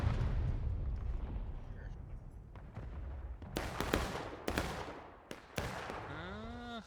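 Cannon fire in the Civil War game War of Rights: several sharp booming shots in the second half, each a sudden broadband crack, set against low rumbling battlefield noise, ending with a rising whistling sweep.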